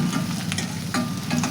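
Onions fry in hot oil for a dill leaf curry, a close, continuous sizzle with scraping stirring strokes at intervals, no voices.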